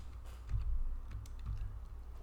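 A URL being typed on a computer keyboard, with soft, quick key clicks in a short run, faint and close.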